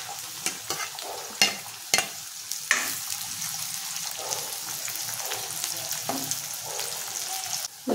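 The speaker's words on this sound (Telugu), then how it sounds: "సన్న సన్నగా కట్ చేసి పెట్టుకున్న ఉల్లిపాయ ముక్కలు వేస్తున్నాను" Thinly sliced onion pieces fry in oil for a bottle gourd curry, giving a steady close sizzle broken by sharp scrapes and taps as they are stirred in the pan.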